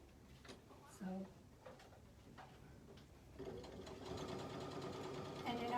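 A sewing machine stitches across the diagonal lines of a fabric hot bowl cozy, its motor hum building into a steady run in the second half, with soft handling noises and quiet talk earlier.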